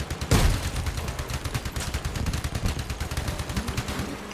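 Rapid gunfire from the Robocraft build 'Growl' on small tracks, a steady close burst of loud machine-gun shots running throughout, opened by a heavier blast.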